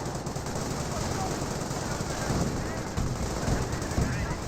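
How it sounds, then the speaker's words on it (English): Rifle fire and machine-gun bursts from the Company of Heroes battlefield, an infantry half-track under fire, dense rapid gunfire rattling steadily at moderate level with thumping impacts throughout. "the infantry half-track does get gunned down by the sheer rifle fire"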